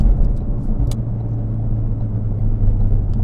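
A Ford Focus RS holds a constant throttle through a corner, its engine giving a steady, loud low rumble from inside the car with light road noise.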